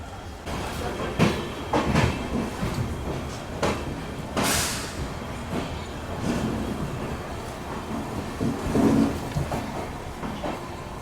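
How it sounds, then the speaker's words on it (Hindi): A train pulls out of Guwahati railway station about seven minutes late, with steady low rumbling, intermittent clicks and clunks of the carriages, and a brief hiss partway through, heard from inside the train. "लगभग 7 मिनट की देरी से ट्रेन निकल रही है अपनी गुवाहाटी रेलवे स्टेशन से।"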